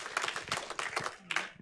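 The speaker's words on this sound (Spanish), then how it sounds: "démosle un aplauso a nuestros hermanos en Corea y en Japón" Short, uneven clapping from a congregation at a Sunday church service, scattered claps rising and falling over under two seconds.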